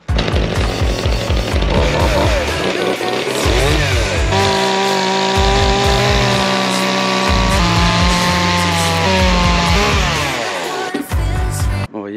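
A chainsaw roars continuously at close range, its engine pitch rising and falling as it bites through a heavy oak sleeper, steady and loud throughout.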